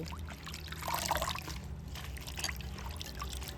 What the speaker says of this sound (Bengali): এই জলের মধ্যে পাতাগুলো একটু ভালো করে ধুয়ে নেব